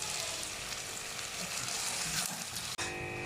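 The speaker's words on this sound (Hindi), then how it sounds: "अब मैं इसे ऑयल के अंदर फ्राई कर रही हूँ" Pieces of arbi (taro) frying in hot oil like chips, giving a dense, continuous sizzle that stays loud and steady throughout, with one brief dropout near the end.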